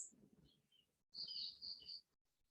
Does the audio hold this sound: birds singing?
yes